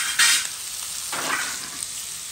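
Onions browning in a pan for a ham rougail, a close, bright sizzle that flares with a stir at the start and again just past a second in, then settles into a steady hiss; no talking.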